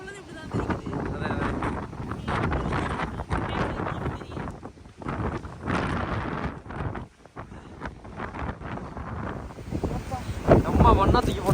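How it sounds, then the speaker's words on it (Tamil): Strong seaside wind at Hel, Poland buffets the microphone in loud, gusty low rumbles that rise and fall throughout, with people talking over it. "இங்க வர வா காத்து என்னோட இப்படி காத்தடிக்குது"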